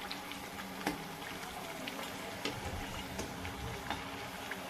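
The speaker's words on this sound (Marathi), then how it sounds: "आपली चकली तळत आली" Fasting-style chakli frying in oil as its bubbling dies down, a dense crackling sizzle with scattered sharp pops at irregular intervals, close and without talk.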